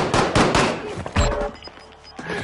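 A quick burst of gunfire in Call of Duty Warzone, several close, loud shots in rapid succession followed by a couple more isolated shots, with a faint game ambience beneath.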